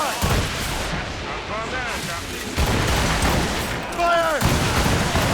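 Ship cannons boom in a naval battle in Assassin's Creed Rogue, several heavy blasts in close succession with whistling shells and rumbling, loud and near, with shouted commands mixed in.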